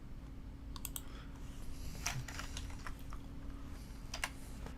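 Several light, quiet keystrokes on a computer keyboard fall in small scattered clusters over a steady low hum, with no talking.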